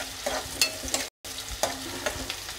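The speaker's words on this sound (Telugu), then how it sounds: "ఇప్పుడు ఆయిల్ కాగిపోయింది ఇప్పుడు ఆనియన్స్ వేసుకుందాం" Onions frying in hot oil while being stirred in a pan for pepper chilli chicken, with a steady sizzle broken by scraping stirs and a brief dropout midway, close and alone without talk.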